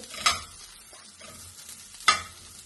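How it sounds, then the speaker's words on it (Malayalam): Vegetables fry in butter in a pan, with two short, sharp bursts of stirring and sizzle about two seconds apart over a quiet background. "കുറച്ച് സമയം ബട്ടറിൽ കിടന്നൊന്ന് മുഴുകി വെക്കാം."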